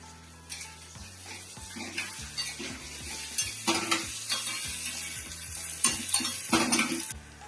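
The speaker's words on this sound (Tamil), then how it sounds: "இப்போ பெருங்காயத்தை போடுறேன். இஞ்சி, கருவேப்பிலை," Asafoetida, ginger and curry leaves sizzle in hot oil in a pan while a spoon stirs and scrapes, giving soft crackling frying under repeated clinks of metal at close range.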